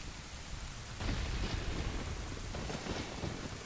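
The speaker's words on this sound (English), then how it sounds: "Oh, look at that lightning strike." Thunder from a lightning strike in The Legend of Zelda: Ocarina of Time rolls out as a loud, deep rumble over steady rain, swelling suddenly and lingering.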